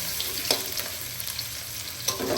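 Garlic and onion for Filipino-style spaghetti frying in a pan, a steady close sizzle with a few stirring scrapes and clacks.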